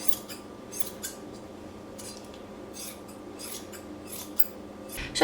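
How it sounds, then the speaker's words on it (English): Repeated crisp snips of scissors cutting through pompom yarn, steady and close, several quick cuts in a loose rhythm with no talking. "I'm ready to cut again to make them all the same length"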